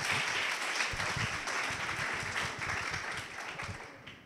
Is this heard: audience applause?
yes